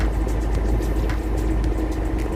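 Isuzu Sportivo engine running at 2000 RPM, suffering throttle delay, vibration, low power and black smoke; a loud, steady, close drone with no pauses.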